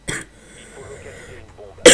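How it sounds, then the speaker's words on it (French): A person coughs while playing Rainbow Six Siege: two loud, harsh bursts, one at the start and one at the end, with quieter game sounds in between. "Je suis vraiment désolé pour ce gameplay avec une toux"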